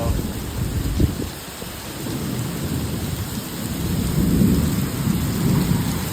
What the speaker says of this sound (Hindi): तो हालात बहुत ख़राब है, बहुत तगड़ी बारिश है